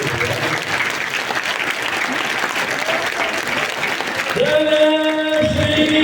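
A satsang audience in Amritsar claps together in a steady, dense burst of applause that fills the hall, with tonal sounds rising near the end.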